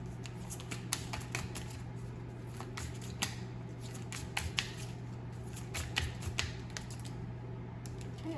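A tarot deck being shuffled and cards pulled by hand, making soft, crisp ticks and rapid riffling flutters up close over a low steady hum in a quiet room.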